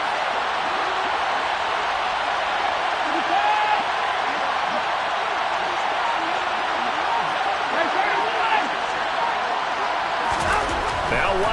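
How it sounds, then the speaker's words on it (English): A stadium crowd in the Madden football video game makes a constant, loud, broadband roar that holds steady throughout, with a commentator's voice faintly beneath it. "That just means this crowd's going to get even louder"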